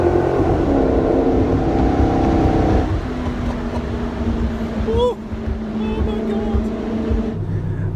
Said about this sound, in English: The V8 in the Maserati is a beautiful engine.